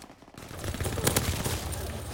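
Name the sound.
gunfire in video game Call of Duty WW2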